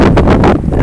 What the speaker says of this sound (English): It's super windy, but I don't care.